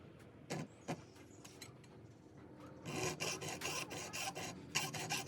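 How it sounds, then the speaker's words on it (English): A standard hacksaw cuts through a metal baggage door hinge on a Roadtrek, a rapid series of raspy back-and-forth strokes, faint at first then steadier and louder, close up with no talk. "Just going to take a standard hacksaw, pinch the hinge together."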